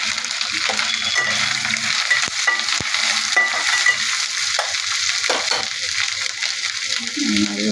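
Ginger paste and onions frying in a pan, a steady loud sizzle that runs throughout, with occasional clinks and scrapes of stirring.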